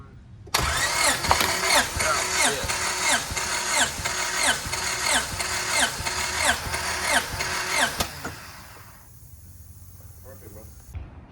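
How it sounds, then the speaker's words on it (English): An engine under a compression test is cranked over by the starter for about ten rhythmic pulses, loud and close, then it stops abruptly and a quiet stretch follows. "I'm gonna go ahead and crank it over 10 times"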